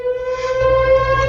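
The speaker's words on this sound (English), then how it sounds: "I've got a siren going here." A siren sounds loud and steady as a sustained tonal wail with strong harmonics, holding one pitch for the whole stretch, and no voices come through over it.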